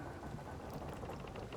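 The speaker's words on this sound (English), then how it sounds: "The rain's starting to hit us now." Rain pours during a storm in the video game Sea of Thieves, a dense steady hiss of falling drops with a low rumbling undertone, faint and continuous with no talking.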